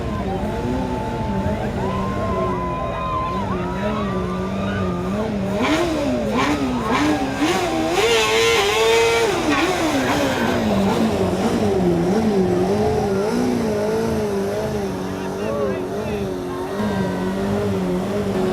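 USF Racing race cars revving their engines at a homecoming parade, loud sustained throttle blips and rising, falling engine whine, with crowd noise and talk underneath.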